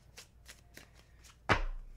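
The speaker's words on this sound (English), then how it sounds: "this one's kind of difficult to shuffle" A deck of tarot cards that is hard to shuffle gets worked through with several soft, papery flicks, then a loud, close riffle that ends in a rushing cascade as the cards fall together.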